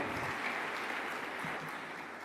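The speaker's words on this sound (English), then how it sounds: "Another massive round of applause for Nwako." An audience at a high-level business engagement event gives a short burst of steady applause, with a dense wash of clapping throughout.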